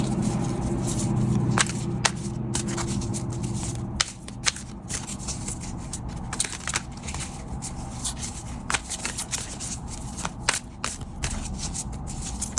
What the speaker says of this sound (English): This deck is difficult for me to shuffle.